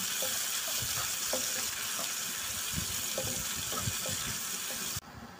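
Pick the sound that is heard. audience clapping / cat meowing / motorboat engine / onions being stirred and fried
onions being stirred and fried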